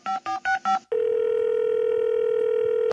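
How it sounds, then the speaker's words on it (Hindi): A telephone call is placed on a comedy TV show: four quick dialing beeps, then a loud, steady, unbroken phone tone that holds on close and clear. "कॉलर को फोन लगाते हैं और पूछते हैं क्या है उनके मन में सवाल।"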